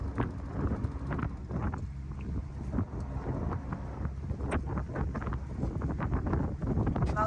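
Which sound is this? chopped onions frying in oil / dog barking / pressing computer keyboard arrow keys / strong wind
strong wind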